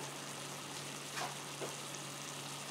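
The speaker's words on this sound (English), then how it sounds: "Just give it a stir." A pan of coconut curry with dry coconut flakes is stirred, giving a steady soft sizzle with a couple of brief scraping strokes partway through, close and fairly quiet, with no voices.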